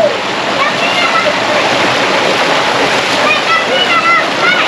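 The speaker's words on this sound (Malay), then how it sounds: "Kita mandi di Sungai Kuala." Shallow, clean Sungai Kuala river water flowing and splashing at a campsite, a steady close broadband rush with bird chirps scattered over it and no voices.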